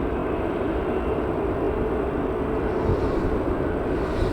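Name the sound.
Jet2 Airbus A321neo aircraft at Manchester Airport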